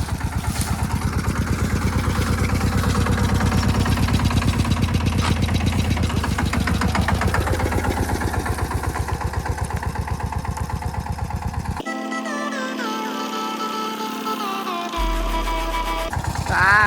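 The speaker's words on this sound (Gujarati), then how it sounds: "પાછું ટ્રેક્ટર લઈને આવી રહ્યા" A tractor engine runs steadily on a farm, a loud close chugging drone with a rapid regular pulse for most of the stretch, then the sound shifts and thins toward the end.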